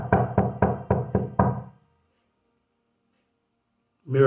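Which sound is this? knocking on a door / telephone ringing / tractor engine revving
knocking on a door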